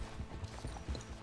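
Horse hooves in Red Dead Redemption 2 beat out a steady, soft clip-clop at moderate distance, with no talk over them.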